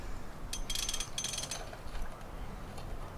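A ratchet wrench loosens a 13 millimeter nut on the exhaust of a 2018 Can-Am Outlander XMR 850 ATV, heard as short bursts of close, fairly quiet clicking over a low background hum.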